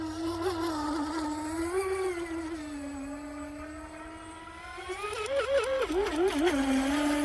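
A small RC boat's high-revving motor whines steadily on the water, its pitch sliding down and then warbling and climbing as the throttle changes, fairly close and alone with no talking.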